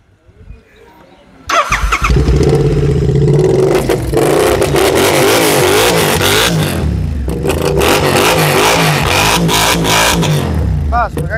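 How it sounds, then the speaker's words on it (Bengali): A sports motorcycle engine in Kolkata starts after a quiet moment, then idles and revs loudly and close, the roar rising and falling in repeated throttle blips, with voices faintly underneath. "সিকনের আওয়াজটা শুনি কেমন।"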